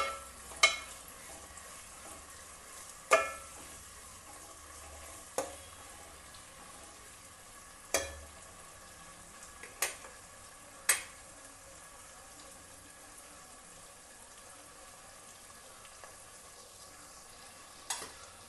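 Onions sizzle faintly in a pan for a red chilli chicken gravy, a soft steady hiss punctuated by a handful of sharp spoon-on-pan clinks, with no talk.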